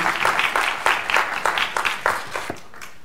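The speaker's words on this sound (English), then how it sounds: "Give Chinmay a round of applause." Audience applause following a product talk on payments in Indonesia at a ProductCamp Singapore event, steady clapping from a mid-sized crowd with sharp individual claps standing out, fading toward the end.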